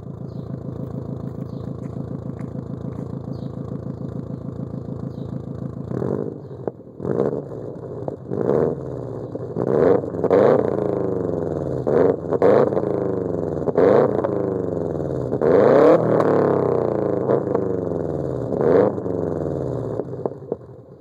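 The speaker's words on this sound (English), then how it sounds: "as soon as I get off the gas, it goes right down to idle" Subaru WRX engine idling steadily, then blipped through a series of sharp revs that each quickly fall back to idle, loud and close, with no talking.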